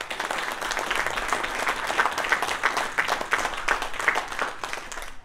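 Crowd at a dirt racing awards banquet breaking into steady applause, dense overlapping claps with a few louder hits, moderately loud and sustained throughout.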